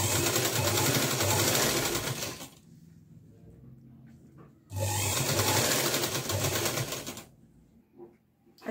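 Sewing machine stitching satin trim onto a frock, running in two loud, fast bursts of rapid mechanical chatter separated by quiet pauses.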